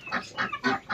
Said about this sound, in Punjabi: ਅਤੇ ਲਓ ਜੀ ਮੁਰਗੀ ਆ ਗਈ ਆ ਆਪਣੇ ਹੱਥ